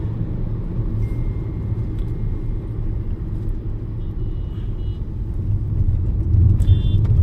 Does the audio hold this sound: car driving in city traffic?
yes